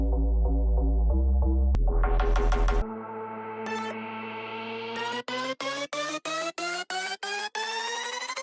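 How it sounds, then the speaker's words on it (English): A synth riser climbs steadily in pitch under a low droning bass, then a series of short, punchy Russian hard bass donks hits in quick, even succession, with dense layered electronic tones throughout. "Copy and paste riser, except this time with Russian hard bass donks."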